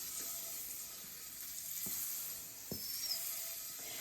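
Butter sizzling in a frying pan before eggs go in, a steady, fairly quiet hiss with a couple of soft knocks, no talk.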